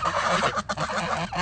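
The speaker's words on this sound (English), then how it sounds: "And then we have two little baby geese." Two young geese, hatched by hens, honk close by in a dense, continuous run of overlapping calls with no gaps.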